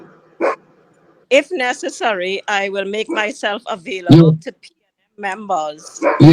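A house dog barks in short bursts in the background during a remote interview call, mostly under a person's continuous speech.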